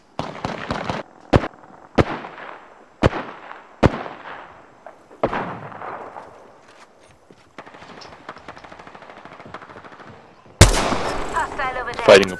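Video game gunfire crackles through a firefight: bursts of sharp shots at irregular intervals, some near and loud and others faster and more distant, ending in a dense, loud volley. Players' voices come through faintly underneath.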